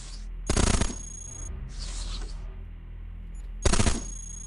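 Machine-gun fire from the video game Cogmind comes in two loud, close bursts, with a softer rattling burst between them. There is no speech.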